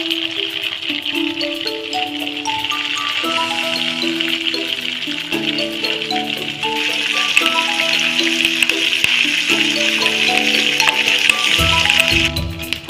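Curry leaves sizzle and crackle steadily in hot homemade ghee on a stove, a dense, close frying hiss with small pops that grows a little louder partway through, no voices over it.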